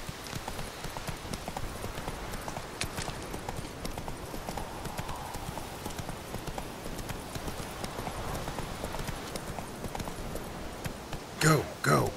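Horse hooves clip-clop steadily in Witcher 3 gameplay, a quiet continuous rhythmic clatter with a couple of louder bursts near the end.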